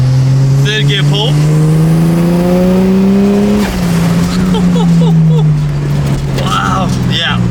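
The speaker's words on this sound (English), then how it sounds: "Third gear pull." Turbocharged L28 engine in a Datsun 280ZX pulls hard in third gear, a loud, rising engine note sweeping up steadily, dipping at a shift-like break midway, with brief turbo whooshes and voices heard over it.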